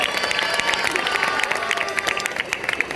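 Applause from a crowd gathered at a giants festival in Sarrià, a dense, steady clapping wash with cheering mixed in and voices underneath, loud and continuous throughout.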